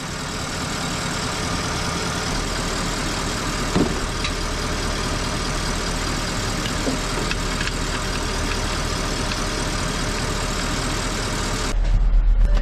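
A car engine idling steadily while transmission fluid is pumped in from underneath, a constant close mechanical hum with a brief clunk partway through and a louder rise at the end, with no talking.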